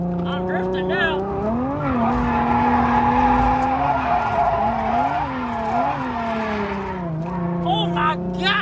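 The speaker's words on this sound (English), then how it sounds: "I'm drifting now." A car drifting at an amateur drift event, its engine droning and rising with revs as tires squeal loudly throughout, with a short dip near the end before the squeal resumes.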